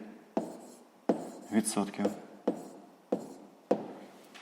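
Pen or pencil writing on paper during a sixth-grade maths lesson, a series of sharp scratchy strokes with short pauses between them, heard close up.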